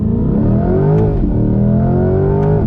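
A 2020 Chevrolet C8 Corvette Z51 sports car accelerates hard on throttle, its loud, close engine note climbing in pitch, dipping briefly at a gear change, then rising again in a second strong pull.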